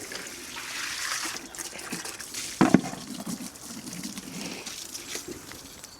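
Water runs steadily into a bucket at a pony's stable, a continuous trickling wash with a brief louder splash or knock partway through.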